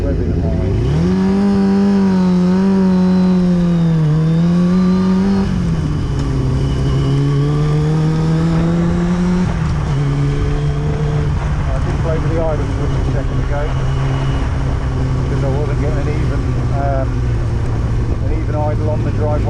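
A Kawasaki ZX-6R motorcycle, freshly refuelled after a dry tank, revs high on a driveway, its strong engine tone rising and dipping in steady pulls before settling into a sustained high drone, loud and close throughout.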